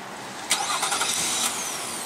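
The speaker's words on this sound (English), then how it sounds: "here's how to do the remote engine start" A 2015 Nissan Pathfinder Platinum, started by remote, cranks briefly and settles into a steady idle under constant outdoor background noise.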